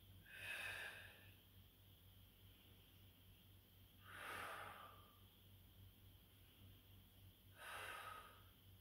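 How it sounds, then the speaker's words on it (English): Deep breaths during Ashtanga yoga, three slow, breathy exhalations spaced a few seconds apart, faint and close with quiet hum between. "Breathing in."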